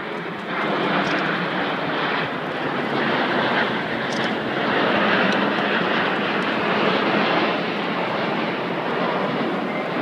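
Red Arrows jet aircraft in an air display over Torquay, a loud continuous engine roar filling the air with steady, slowly swelling intensity throughout.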